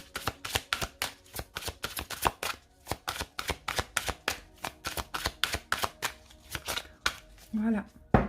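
Oracle cards are shuffled close up in quick, crisp riffling bursts with a steady rapid rhythm, and a brief voice joins near the end.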